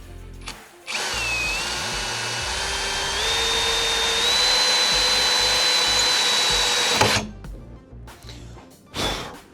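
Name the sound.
power drill with special tile drill bit boring through tile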